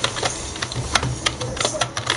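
Rapid keystrokes on a new gaming keyboard during a game of Fortnite-style building, a dense run of sharp, close clicks and taps at an uneven rhythm over a low background hum.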